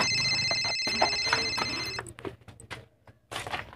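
A telephone rings with a steady electronic ringtone for about two seconds, then stops, leaving scattered clicks and handling noises.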